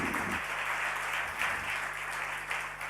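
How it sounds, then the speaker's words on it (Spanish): An audience at an innovation event applauds a band from a fine arts faculty, a dense burst of clapping that holds steady and fairly loud for a few seconds. "un aplauso para ellos"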